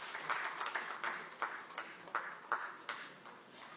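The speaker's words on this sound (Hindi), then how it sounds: "संजय जायसवाल जी का सम्मान और स्वागत करें और हम हमारे तालियों की करतल ध्वनि के साथ आपका हमारे मुंबई शहर में बहुत स्नेह के साथ स्वागत और सम्मान करते हैं।" Audience at a national conference of Estimates Committees in Mumbai applauds, scattered claps rising into a faint, distant ripple heard from afar.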